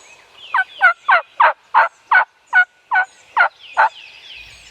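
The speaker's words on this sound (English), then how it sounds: "This bird begins to gobble" A wild turkey, perched in a tree, gobbles about ten times in a quick, evenly spaced series. Each call is loud and close in an otherwise quiet setting.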